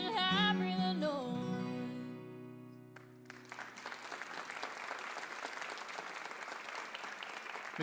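A guitar song at a live country-music broadcast rings out with its final sustained chord, then audience applause takes over from about three seconds in, steady dense clapping from a sizeable crowd continuing to the end.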